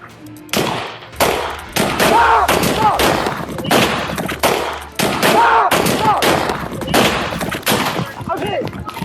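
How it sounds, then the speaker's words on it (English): Police exchange gunfire with an armed suspect, loud close shots in rapid bursts and volleys with brief gaps, and voices sound between them. "Shots fired. Police action shooting."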